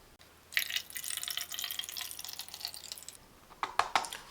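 Water trickles and splashes into the plastic tank of a Philips 1000 Series DST1030 steam iron, poured from a measuring cup, close and fairly quiet, with a few sharper drips near the end.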